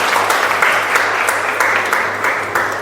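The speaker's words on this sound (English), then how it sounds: "Can we give Vero a big round of applause?" Audience applause for a volunteer called onto the stage at a communication and presentation skills session, steady and fairly loud clapping filling the whole stretch, with a low constant hum underneath.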